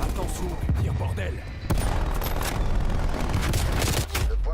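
Gunfire and sniper shots from Black Ops Cold War boom in loud, close bursts, with a sharp crack near the middle amid continuous game noise and a voice speaking over it.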